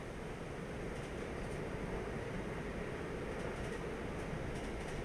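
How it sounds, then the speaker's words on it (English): Train running in the Train Life railway simulator game at about 80 km/h, a steady, continuous rumble with constant loudness throughout and no voices. "A good little train, this."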